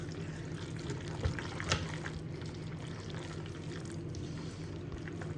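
Sauce poured into cooked pasta and stirred, a soft wet pouring and sloshing with a couple of brief clunks against the pot, quiet and close with no talking.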